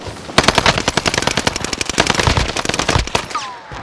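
Heavy automatic gunfire in Call of Duty: Warzone on Fortune's Keep, a loud, dense, rapid rattle of shots close by that continues almost without pause through the clip, with no talking.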